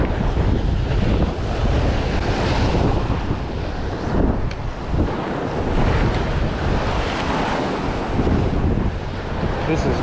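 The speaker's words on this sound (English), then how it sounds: "This is crazy. These waves are insane." Big surf crashing steadily near shore while fishing for snook from a boat among diving pelicans and seagulls, with strong wind buffeting the microphone throughout, loud and continuous.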